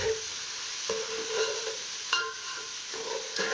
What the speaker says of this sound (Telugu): జింజర్ గార్లిక్ పేస్ట్ పచ్చి వాసన పోయే వరకు మంచిగా కొంచెం దీన్ని సాటే